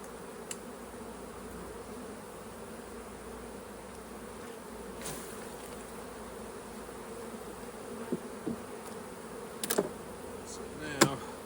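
Honeybees buzz as a dense, steady drone while being shaken off frames into a hive box, with a few sharp knocks and thumps near the end.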